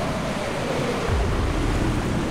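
Ocean waves in Minecraft: Story Mode wash and roll continuously as a broad, steady surf hiss mixed with wind-like rumble, loud and close, with no voices over it.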